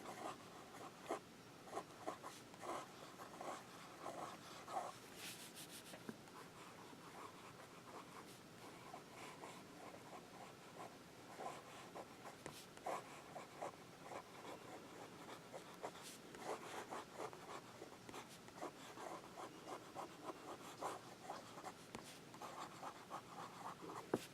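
A pen writes on Rhodia paper, close up, in a long run of soft scratchy strokes and small taps that rise and fall with the handwriting and never stop.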